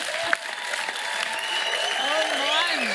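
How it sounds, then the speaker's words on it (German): Applause from a crowd celebrating a win at a paper-plane league event, a steady dense wash of clapping with tonal voices rising over it as people talk and cheer. "Der Applaus gilt euch."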